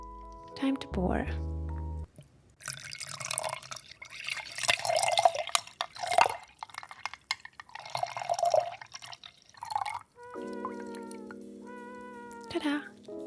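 A Baileys, butterscotch ice cream and vodka cocktail pours and drips into a glass in short bursts, with musical tones at the start and end.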